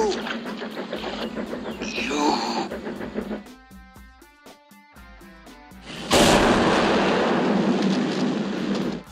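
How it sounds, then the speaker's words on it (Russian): The bridge explosion from the film The Bridge on the River Kwai: a sudden loud, broad blast rolls out after a stretch of mixed film sound and music-like tones. The rumble sustains for several seconds. "Подполковник Николсон взрывает мост."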